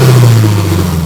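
A rebuilt car engine revs at a show event with a loud, close, throaty roar. A strong low rumble swells and eases in one short burst, with no talk over it.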